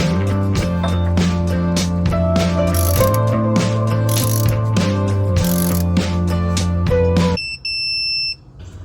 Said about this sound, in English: now we torque it down. We're set to 18 foot-pounds.